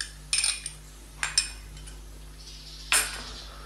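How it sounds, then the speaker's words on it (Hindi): Metal spoon clinking and scraping against a pot in a few sharp bursts while beef is mixed with ginger garlic paste, with quiet gaps between the strokes. "अच्छे से मिक्स करेंगे और अदरक और लहसुन के पेस्ट के साथ हम बीफ को तकरीबन मज़ीद 2 मिनट के लिए भून लेंगे"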